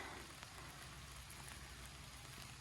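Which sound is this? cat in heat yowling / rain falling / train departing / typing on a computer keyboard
rain falling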